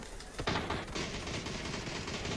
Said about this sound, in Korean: 총소리가 났고